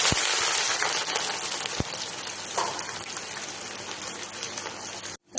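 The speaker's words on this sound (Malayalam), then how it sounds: "ഇനി സബോള വറുക്കാം." Sliced onions fry in hot oil for chicken biryani, giving a dense, even hiss and crackle like light rain with a few sharp pops, close and steady, then cut off abruptly.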